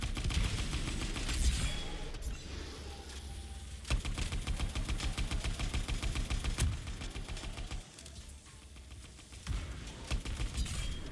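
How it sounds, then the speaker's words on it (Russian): A cannon fires repeatedly at shields during a fortress fight in the game Anthem, with rapid sharp metallic bursts in dense rhythmic volleys, loud and close, separated by brief pauses. "Эта пушка хорошо так снимает эти щиты."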